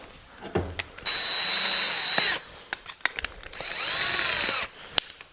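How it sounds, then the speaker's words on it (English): A power drill fitted with a paddle paint mixer whirs in two sustained bursts with a steady high whine, separated by clicks and handling noises; close by. "I've actually got this handy dandy paint mixer. It goes right on your drill."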